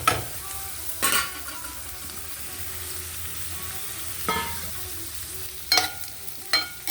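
Onions frying in a pan with a low steady sizzle, broken by a few sharp scraping strokes of a spoon at irregular intervals.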